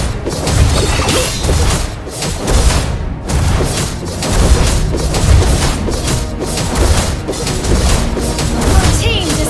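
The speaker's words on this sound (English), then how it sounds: "Your team destroyed a turret!" Loud, busy game combat in Mobile Legends as a turret is destroyed: repeated booming impacts, crashes and whooshing effects packed together with no pause, layered with energetic music.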